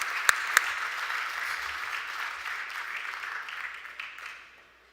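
Banquet audience gives sustained applause after a keynote talk, two sharp close claps standing out early before the broad clapping fades away toward the end.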